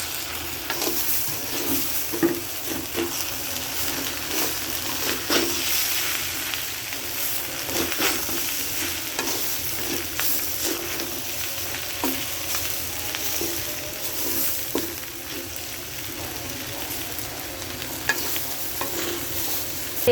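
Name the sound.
rice and ground ginger frying in a pot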